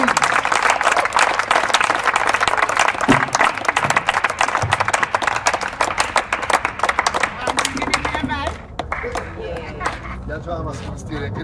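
A crowd claps loudly in dense, continuous applause at an honoring ceremony, thinning toward the end into scattered individual claps while a voice speaks over it.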